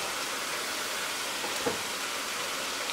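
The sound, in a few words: food frying in deep fryer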